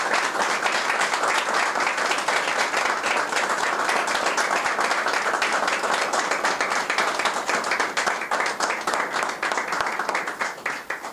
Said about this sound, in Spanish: fuertes aplausos por este reconocimiento